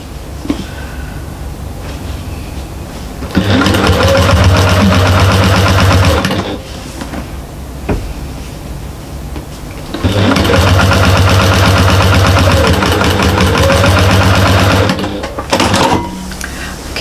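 A sewing machine stitches binding through all the layers of a fabric bag in two long, loud, steady runs of rapid mechanical whirring, separated by a quieter pause with small clicks.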